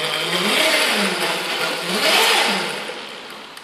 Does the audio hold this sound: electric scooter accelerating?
yes